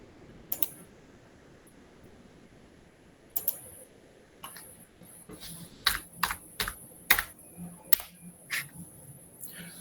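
A computer keyboard is typed on in sparse, uneven bursts, with a few isolated keystrokes first and then quicker clusters of crisp clicks, close but fairly quiet.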